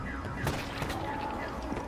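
Faint bursts of in-game gunfire from Call of Duty Black Ops 3 Zombies on the Shadows of Evil map, a few scattered shots over a steady low background of game noise.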